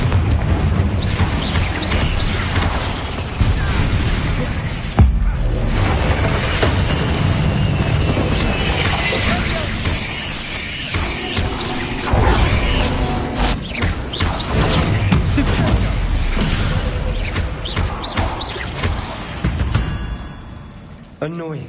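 Confringo fire spells in Hogwarts Legacy: repeated booming explosions and fiery bursts through a dense, loud combat mix, with a spoken incantation heard over the continuous battle noise.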